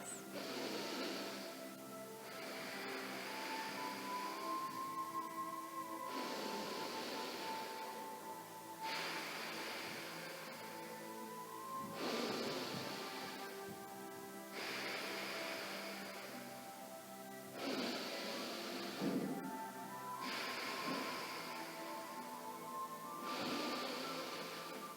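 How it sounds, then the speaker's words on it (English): Slow, deep yoga breaths, each noisy inhale and exhale a long rushing swell of air, repeating steadily in a calm rhythm of about eight cycles, close and clear with no talking. "making this noisy inhale and exhale, try to slow down your breath"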